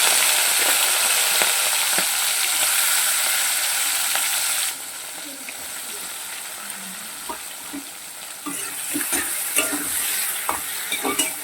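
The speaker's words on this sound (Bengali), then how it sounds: "গ্যাসে কড়াটা বসিয়ে দিয়েছি এবার চিংড়িটাকে ভেজে নেবো" Medium-sized prawns fry in hot oil in a wok on a gas stove, with a strong, dense sizzle that eases midway and then picks up again alongside scattered spoon and stirring clicks.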